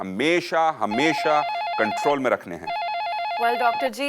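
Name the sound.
telephone bell ringing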